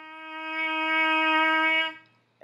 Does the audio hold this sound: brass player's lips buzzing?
yes